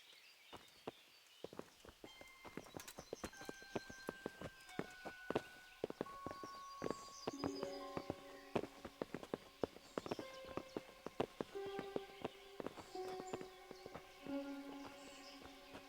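Horses' hooves clip-clop steadily at a walk in the medieval game Kingdom Come: Deliverance, in a faint irregular rhythm of hoof strikes with soft ambient music underneath.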